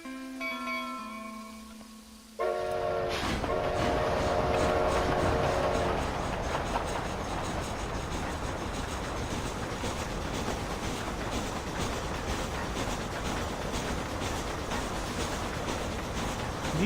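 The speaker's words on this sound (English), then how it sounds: "It's not even coal-fired, it's a wood-fired locomotive." An old wood-fired steam locomotive in a video game set around 1912, starting with a whistle-like tone and then a steady rolling clatter of wheels and cars, loud and continuous.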